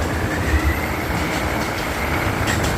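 Freight container train passing at night around 2 a.m. near Sam Sen station in Bangkok, a dense continuous rumble and wheel noise with faint squeals, loud and steady throughout.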